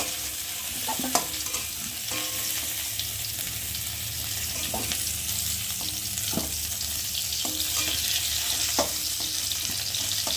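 Cauliflower pieces frying in oil in a wok give a loud, continuous sizzle close by, with occasional clinks of a spatula stirring through it.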